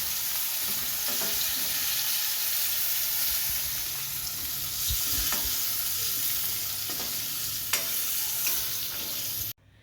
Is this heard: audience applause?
no